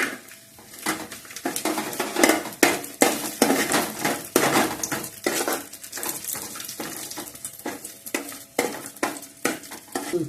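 Raisins being stirred and fried in a pan over low heat for semiya laddu, with repeated scraping and clinking of a spoon against the pan over a soft, steady sizzle.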